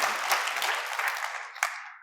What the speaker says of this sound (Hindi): मैं चाहूँगा कि उन साथियों के लिए एक जोरदार ताली हो जाए